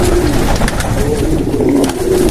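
Pigeons coo in a continuous, overlapping chorus at close range, soft repeated calls layered over one another with no voices present.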